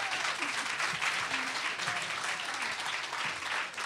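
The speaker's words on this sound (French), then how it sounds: "On l'applaudit bien fort." An adult-education class audience applauds a participant at a Quebec event, a dense, sustained burst of clapping from many hands that carries on steadily for several seconds.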